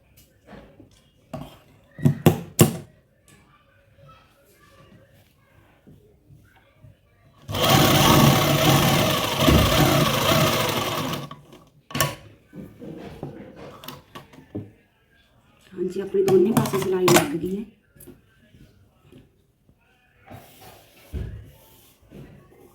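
Sewing machine stitching lace onto palazzo trousers, running in a loud steady whir for a few seconds, then a second shorter burst, with scattered clicks and handling noises in between.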